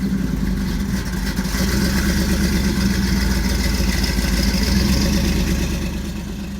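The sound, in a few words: classic muscle car engine rumbling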